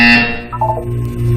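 A buzzer from the video game Portal 2 sounds once, a loud harsh electronic tone that cuts off abruptly, followed by quieter synthetic tones and a low electronic hum.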